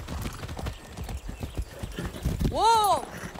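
Steady clip-clop of horse hooves under a busy Far Cry 6 game soundscape, ending in a loud, close whinny.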